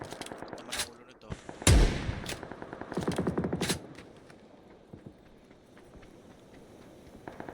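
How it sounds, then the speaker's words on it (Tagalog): Gunfire in PUBG on the Karakin map, with scattered sharp shots and a dense burst of rapid automatic fire, the reports varying in distance and loudness over quiet in-game background. "Tuloy-tuloy ang barilan dito."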